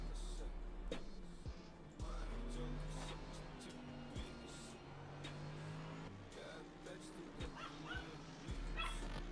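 A dog barks, yips and whimpers in short repeated bursts nearby, with someone speaking over it and a car engine humming in the background.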